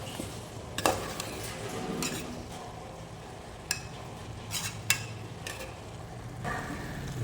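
Potato and cabbage poriyal with tomato and turmeric is stirred in a pan, a spoon scraping and clinking against the metal in scattered strokes over a soft sizzle.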